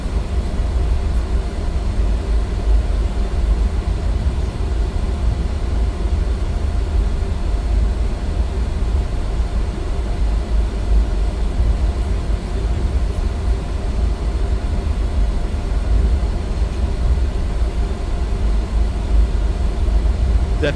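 Steady loud roar of an Embraer E175 jet's engines during takeoff roll from runway 15 left in a flight simulator, a constant broadband rumble with no talking.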